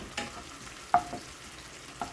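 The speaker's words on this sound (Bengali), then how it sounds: "আদা বাটাটা একটুখানি ভাজা ভাজা হবে মানে জাস্ট কাঁচা গন্ধটা বেরোবে" Ginger paste frying briefly in a pan for a banana-flower dal, a soft, quiet sizzle broken by a few short scraping stirs, heard close with no speech.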